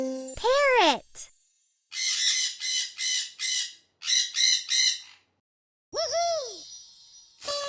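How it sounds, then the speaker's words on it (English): Cartoonish parrot squawks from a children's puzzle game, a bright rising-falling call at the start and another near the end, with jingly chime bursts in between and a short silent gap. "Parrot!"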